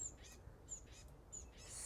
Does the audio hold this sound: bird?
yes